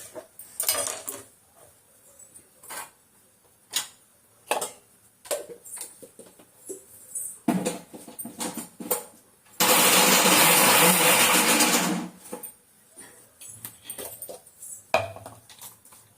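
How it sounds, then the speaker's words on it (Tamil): Tomatoes are pulsed in a mixer grinder: a loud burst of whirring motor runs for about two seconds midway, framed by clatter and clinks of the jar and utensils. "தக்காளியை பல்சு மோடில் திருவிட்டேன்."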